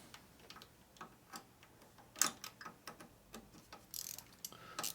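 A ratchet clicks in short bursts while bolts are tightened on the engine of a 2001 Gilroy Indian motorcycle being rebuilt, quiet close-up ticking with pauses between strokes and faint workshop background.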